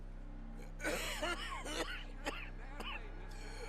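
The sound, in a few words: Arthur coughing, from the video game Red Dead Redemption 2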